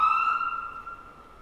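A siren from an ambulance stuck in traffic holds a steady high wail and fades gradually, sounding fairly distant and faint over quiet background.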